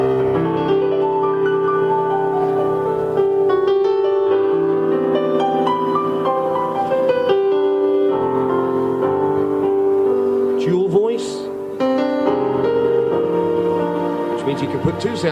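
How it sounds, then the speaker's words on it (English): A Yamaha PSR S500 keyboard plays its live grand piano voice, sustained chords and melodic runs ringing out continuously and fairly loud, with a brief busier flourish midway. "We've got a live grand piano, and that sounds something like this."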